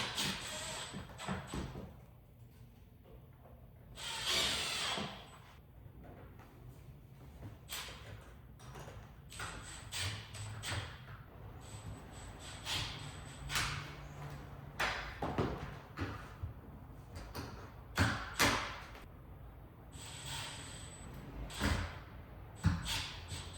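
Hinges going onto a freshly painted exterior front door make scattered knocks, taps and clunks of varying loudness, with short pauses between, over a quiet indoor background.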